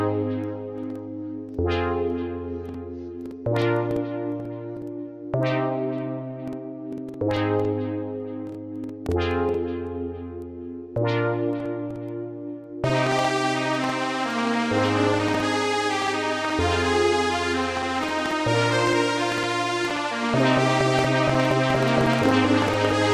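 Synthesizer bass line plays back in repeating sustained notes, later joined by a brighter, fuller layer for the second half, steady and without voices.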